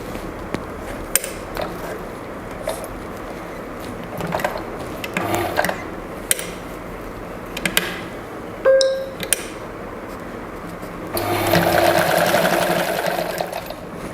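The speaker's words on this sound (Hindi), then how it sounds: "फिर स्टार्ट करते हैं स्टिचिंग" A sewing machine stitches a designer-style blouse: scattered mechanical clicks and clunks, then a steady whirring run of stitching near the end, close and moderately loud.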